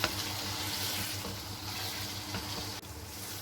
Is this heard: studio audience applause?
no